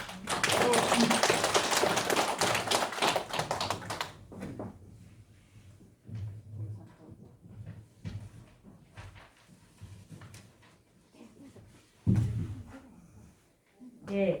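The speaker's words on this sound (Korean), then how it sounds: "큰 박수 부탁드립니다" An audience at a veterans' association security rally in Ulsan's Dong-gu breaks into dense, loud applause for about four seconds, which then dies away into quieter room noise and scattered sounds.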